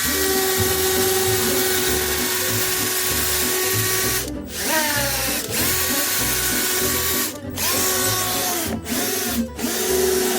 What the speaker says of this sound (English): we're setting the depth of our drill bit so that we can go through the wood